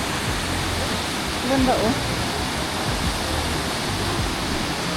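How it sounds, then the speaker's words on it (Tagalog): Waterfall Gully in Adelaide roars with a dense, steady wash of falling water, close and constant throughout, while a voice speaks briefly over it. "Another waterfall."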